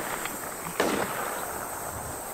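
A single sharp gunshot in the survival zombie game The WarZ cracks out once mid-clip, moderately close, over a steady hiss of game ambience.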